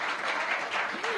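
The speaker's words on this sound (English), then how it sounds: "so if we could give her a round of applause" Audience applause at an alumni awards event, a brief even burst of clapping from a crowd, steady and moderately loud with a faint voice underneath.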